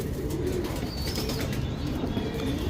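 Pigeons for sale coo softly and continuously at close range, a low murmuring drone with occasional faint chirps and wing rustles above it.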